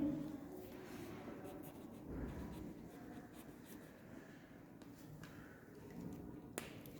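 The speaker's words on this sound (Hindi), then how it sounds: "चलिए अब इसका रिजल्ट लिखते हैं।" A pen scratches out a math result on paper, a string of short strokes and taps in an uneven rhythm, close and soft, with no talking.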